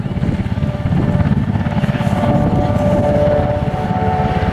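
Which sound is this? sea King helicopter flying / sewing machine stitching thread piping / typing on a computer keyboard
sea King helicopter flying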